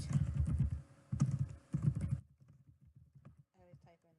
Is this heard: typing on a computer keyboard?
yes